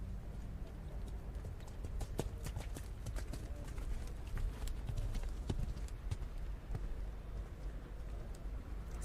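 Rhythmic hoofbeats from a junior eventing horse performing a dressage test at a European championship, steady clip-clop at moderate distance over a low ambient arena hum, with faint background murmur.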